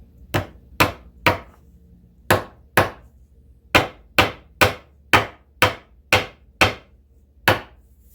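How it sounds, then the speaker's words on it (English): Sharp hammer strikes ring out one after another, about a dozen blows in uneven groups of two and three, close and loud with brief decays, as frets are hammered into a guitar neck. "Now you can use a brass hammer or a regular one."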